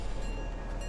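A train in the video game Fortnite rumbles steadily along, a continuous loud, dense mechanical roar with no breaks across the short stretch.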